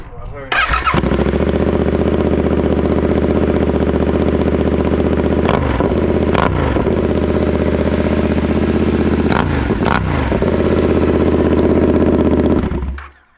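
A Yamaha Tenere 700 motorcycle engine with its exhaust removed fires up and idles loudly and raw, with a couple of sharp throttle blips partway through before cutting off at the end.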